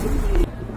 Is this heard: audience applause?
no